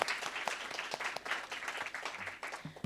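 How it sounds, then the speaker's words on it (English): An audience at a seminar business breakfast gives a steady round of applause, dense clapping sustained for the whole stretch at moderate distance, with no voices on top. "Can we please give him another round of applause?"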